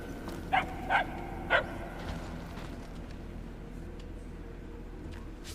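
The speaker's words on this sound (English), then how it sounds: "The yapping is getting louder." Three sharp, yappy dog barks from a video game ring out in quick succession near the start, then stop, leaving a steady low ambient hum in the background.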